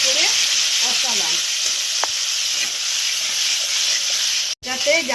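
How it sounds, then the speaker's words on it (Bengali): Spices with turmeric powder and salt frying in a pan, a loud steady sizzle with faint stirring scrapes that runs almost without pause. It cuts out briefly near the end, then resumes. "যাতে কাঁচা গন্ধটা না থাকে, সেই জন্য এটা ভালো করে ভাজতে হবে।"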